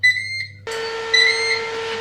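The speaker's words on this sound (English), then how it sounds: "And we've beeped." Electronic oven beeping at the end of its bake timer: a short high double beep, then a steady sustained tone, close and clear with no voices.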